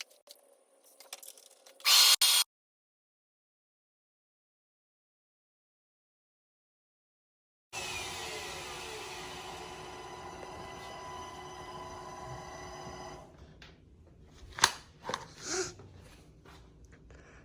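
CNC router cutting all the way through a wooden sign board, a steady close whine and grinding hum for several seconds after a brief burst and a silent gap, ending in a few louder knocks.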